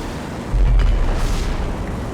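A deep missile explosion in Rage 2 lands as one heavy boom about half a second in, then a dull rumbling tail that lingers.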